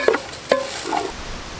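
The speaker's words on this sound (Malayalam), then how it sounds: "അപ്പോൾ ഇതിലേക്ക് നമുക്കിനി ചിക്കൻ ഇട്ട് കൊടുക്കാം കേട്ടോ." Chicken pieces dropped into hot masala in a pan for Kilipoyi chicken, with sharp clinks of a utensil and a soft stir and sizzle that fades in the background.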